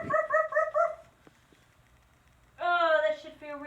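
A person imitates a dog with voiced barks during a yoga pose: a quick burst of several yips, a pause, then a longer howling bark, loud and close.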